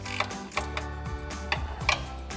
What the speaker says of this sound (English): I'm gonna start up top with that 12mm ratcheting wrench